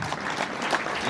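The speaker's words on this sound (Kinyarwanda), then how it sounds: "Amashyi nanone" Audience claps in a steady, dense round of applause at a celebration ceremony at GS Nkombo, filling the whole moment without any voices.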